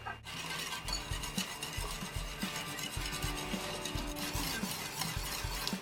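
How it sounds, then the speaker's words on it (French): Yogurt and apple cake batter being mixed in a bowl: continuous busy stirring and scraping with faint clinks of utensil against the bowl, close and fairly quiet, no talk. "Et on revient mélanger."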